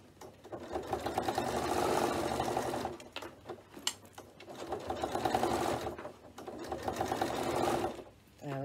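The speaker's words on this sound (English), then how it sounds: "Just going sewing down." A sewing machine stitches binding onto a fabric bag in three sustained bursts of rapid, steady mechanical whirring, close and clear, separated by short pauses.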